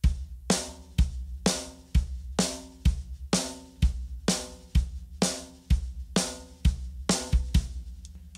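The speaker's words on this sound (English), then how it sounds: "So together, bass drum and snare sound like this." Rock-and-roll drum groove with bass drum and snare together: low kick thumps alternate with bright, crisp snare cracks in a steady, even pattern, played alone and close.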